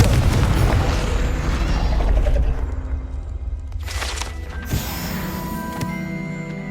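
A Confringo spell explosion in the Hogwarts Legacy video game: a heavy rumbling blast with mechanical clatter that fades, then a bright magical burst and ringing tones, loud and close.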